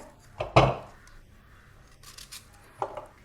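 Peeled raw green mangoes being cut into pieces with a knife, a couple of sharp close cuts near the start, then quieter scraping and a final cut, with no talking.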